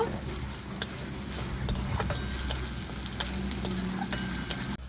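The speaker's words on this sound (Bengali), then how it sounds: "ভালো করে নেড়ে চেড়ে কষিয়ে নেব" Ginger-garlic paste is stirred and sautéed in a pan for an egg curry. It gives a continuous sizzle with intermittent sharp scrapes and taps of the spatula, close and fairly loud.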